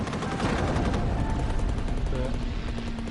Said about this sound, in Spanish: La flak alemana tenía cañones apostados en el dique y abrió fuego.